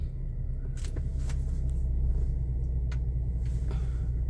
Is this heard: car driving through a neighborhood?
yes